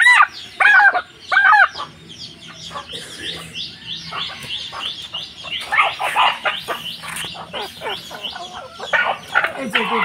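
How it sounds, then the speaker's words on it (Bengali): Several local village roosters and hens at a rural poultry market call out: loud, close crowing and repeated clucking in quick overlapping bursts, with a voice briefly audible among them. "এই যে ওই যে মোরগ 3টা আছে"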